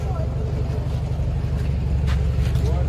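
Several jeeps idle and move off together at the start of a big group trip in Abkhazia, a steady low engine rumble filling the scene while people chat nearby.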